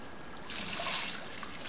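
Bathtub water running in The Sims Medieval, a soft, steady hiss of a faucet trickling that swells for about a second and then settles, fairly quiet and heard alone.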